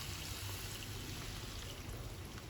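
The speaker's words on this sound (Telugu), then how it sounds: "ఇప్పుడు మనం దీంట్లో వాటర్ని యాడ్ చేసుకోవాలి" Water poured into a cooking pot with pieces of meat, a faint, steady stream trickling continuously at low level with no voices.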